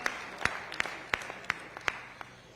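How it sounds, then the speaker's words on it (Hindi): At a Jodhpur public event honouring a chief minister, scattered hands clap in a loose, fairly regular rhythm, each sharp clap distinct against a quiet room background rather than a full roar. "जोरदार तालियां बजा के आपका स्वागत और अभिनंदन"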